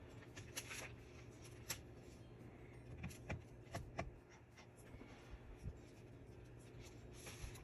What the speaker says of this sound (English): here's our noisy paper